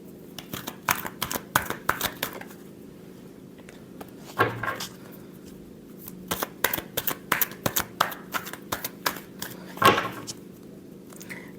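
Tarot cards are shuffled by hand, giving quick, close bursts of crisp flicking and riffling with short pauses and a few soft taps.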